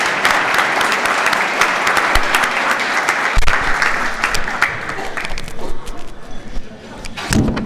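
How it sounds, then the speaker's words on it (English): Banquet guests at a scholar-athlete dinner applaud, dense clapping filling the room for several seconds, then thinning out with a few thumps and murmured voices near the end. "Another round of applause for Dr. Ashley Bassett, please."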